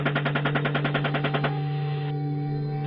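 A rapid burst of machine gun fire in a recorded military engagement, about a dozen evenly spaced shots over roughly a second and a half, over a steady radio hum and hiss that carries on after the firing stops.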